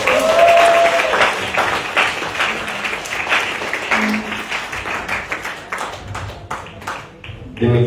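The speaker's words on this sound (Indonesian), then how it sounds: "Tepuk tangan untuk kalian semuanya." Audience applause at a family-resilience workshop, many hands clapping steadily and close, gradually thinning toward the end with some talk underneath.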